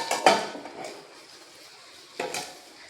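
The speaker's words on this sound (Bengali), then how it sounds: "এখন গ্যাসটা অফ করে চিনির সিরাটা নামিয়ে নেব" A pot of boiled sugar syrup is lifted off a gas stove, giving two short metallic clanks of pot against the burner grate about two seconds apart, with quiet kitchen room tone in between.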